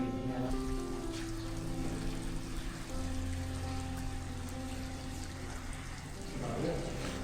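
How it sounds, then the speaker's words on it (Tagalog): Steady heavy rain falls outside during a storm at a volcanic wine farm in La Geria, Lanzarote, Spain, a constant wash of drops on surfaces, with a low hum and faint voices murmuring in the background. "Ang lakas ng ulan sa labas."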